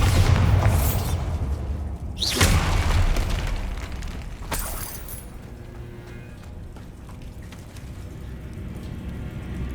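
Repeated Bombarda blasting spells in the video game Hogwarts Legacy give a heavy boom, then another burst a couple of seconds later, with crackling debris and a lingering rumbling wash that gradually fades.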